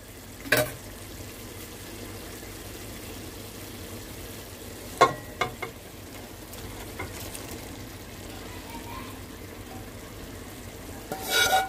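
Fried eggs are stirred into a pan of frying biryani masala: a low, steady sizzle with a few sharp scraping knocks near the start, middle and end, with no voices.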